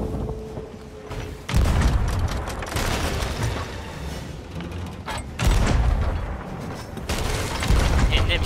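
Heavy ship cannon fire from a pirate ship battle in Sea of Thieves, booming blasts arriving in a few separated bursts with rumbling impacts and continuous sea and game ambience underneath.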